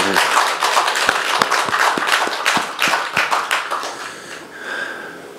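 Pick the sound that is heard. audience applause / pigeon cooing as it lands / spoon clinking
audience applause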